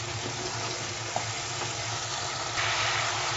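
Masala for chicken tandoori fries in a pan while a spoon stirs it, making a steady loud sizzle with occasional scrapes and taps, brightening slightly near the end.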